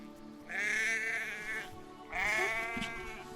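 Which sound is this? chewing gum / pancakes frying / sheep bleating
sheep bleating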